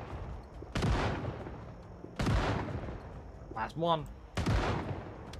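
Three loud shotgun blasts with booming tails go off in a video game at roughly even intervals, close and heavy, with a brief voice speaking between shots.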